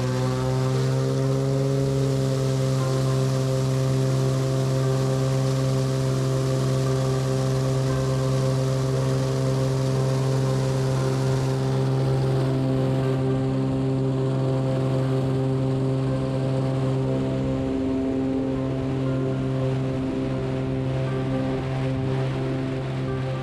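Small propeller airplane taking off from runway 17 left, its engine droning loud and steady with strong tonal harmonics, the note shifting slightly partway through as it climbs out.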